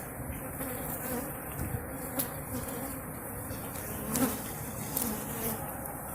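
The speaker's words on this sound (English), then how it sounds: "The bees are coming at me." Honey bees buzz steadily and fairly close around an open hive at a rooftop apiary, a continuous droning hum with several individual insects passing near.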